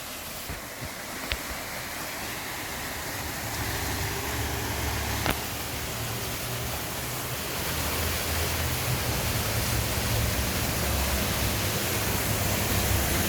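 A steady, broadband roar of Gelintülü Waterfall near Ayder Plateau, Rize, Turkey, fills the scene, loud and continuous with slight swells, no voices present.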